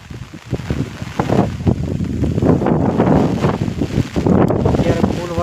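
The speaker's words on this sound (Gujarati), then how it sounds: "અત્યારે ફૂલ વરસાદ તો જુઓ," Heavy rain with strong gusting wind lashes a castor and cotton field, a dense, loud roar of drops and buffeting wind against the microphone, continuous throughout.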